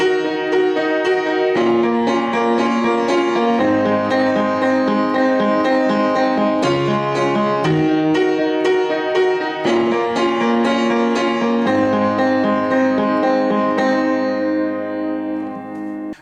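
Solo piano plays the bridge of a song, a steady run of sustained chords with a low bass line, loud and continuous from start to finish before fading at the end.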